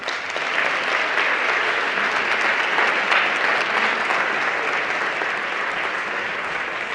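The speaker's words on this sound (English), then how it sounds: "one more big round of applause for all of them" Large audience applauding winners at a public health prize award ceremony, a steady, even roar of many hands clapping throughout without pause.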